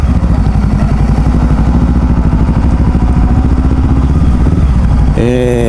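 A DS500 adventure motorcycle engine runs close by with a loud, steady, throbbing idle and rapid mechanical pulses, then revs up sharply in the last half-second.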